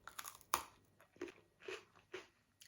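Close, quiet crunching as crunchy homemade gingerbread cookies are bitten and chewed: one sharp crisp bite followed by a few rhythmic crunchy chews, with no talk.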